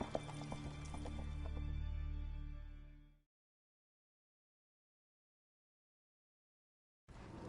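A horse gallops in The Witcher 3 video game, its rapid hoofbeats loud and steady for about three seconds before cutting to silence, with a brief return of sound at the very end.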